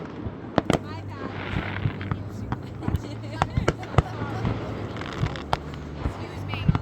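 Fireworks pop and bang in a ragged series of sharp, fairly close blasts during a backyard fireworks battle, mixed with crackling and people chatting between bursts.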